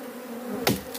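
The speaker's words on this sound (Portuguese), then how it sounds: "Daqui a pouco tem muita abelha dentro." Bees buzz around a hive box they are entering, a dense, steady drone close by, broken once by a sharp knock on the box and a fainter tap just after.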